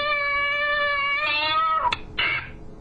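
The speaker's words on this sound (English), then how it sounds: "and so let me pet that cat." A visiting house cat lets out a long, clear meow while being stroked, its tone sliding upward, then gives a short sharp yelp followed by a brief second cry, close and loud with no talking.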